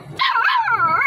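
A dog gives a single short, high bark or yip close by, clear and alone with no other sound around it.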